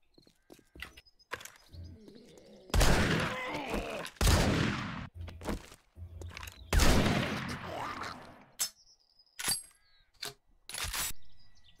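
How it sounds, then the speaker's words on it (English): Pipe shotguns blast in the survival game 7 Days to Die, several loud, close booming shots fired in quick succession with short gaps, trailed by scattered clicks and smaller impacts. "players have adapted to using multiple pipe shotguns at once, allowing them to cycle through their weapons and unleash a far more reliable barrage"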